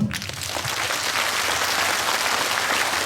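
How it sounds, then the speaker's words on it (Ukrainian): An audience at a Ukrainian concert applauds touring frontline radio artists, a dense, even round of clapping that starts at once and holds steady for about three seconds. "Оплески їм!"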